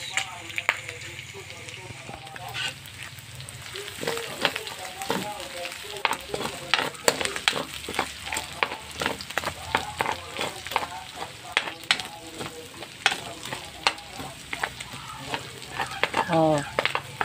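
Garlic frying in pork-rendered oil for a large batch of spaghetti sauce, a continuous low sizzle with scattered crackles and stirring scrapes, with a voice speaking over it at times.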